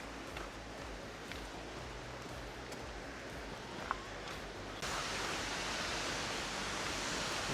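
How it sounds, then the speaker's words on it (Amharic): A waterfall on the Trail of Ten Falls roars as a constant broadband rush, faint at first and then louder and closer partway through, with a few light rustles over it. "ፏፏቴ ጋር እየተጠጋ ነው"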